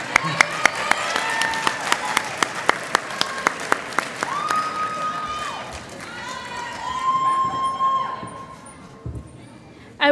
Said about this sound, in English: you're applauding your parents and families